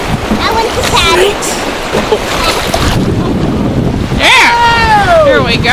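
A canoe runs through a choppy whitewater stretch of the Shenandoah River: constant rushing water and wind noise, with voices calling out and a whoop near the end.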